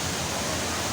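Flowing water at Bantimurung waterfall, a steady broadband rush that holds even and fairly soft through a single brief second, with no voices.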